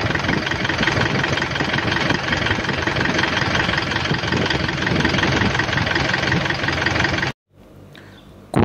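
A car engine with a suspected blown head gasket runs at a steady, loud idle with a rough knocking rumble while its radiator cap is off; it stops abruptly near the end.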